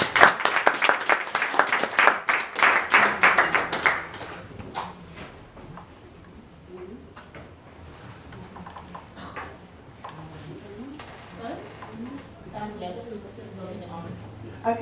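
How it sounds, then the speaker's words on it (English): Audience applause at a university live-streamed event, strong clapping for about four seconds that quickly fades, followed by quieter room noise and people talking. "Please give them a round of applause, guys."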